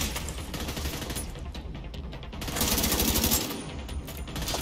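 Sustained automatic gunfire from a Division 2 shooter game firefight, rapid bursts packed densely and loud throughout with almost no pause.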